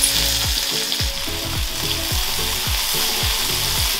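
Red pepper sizzles loudly in hot vegetable oil in a wok, with a steady crackle and regular scraping strokes as it is stirred.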